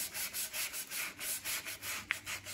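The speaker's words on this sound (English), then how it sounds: "So next up, I've got to work through the grades of sandpaper." Hand sanding a wooden Gibson SG bass neck with 180-grit sandpaper, a close, rhythmic back-and-forth rasp of about a dozen even strokes, with no talking.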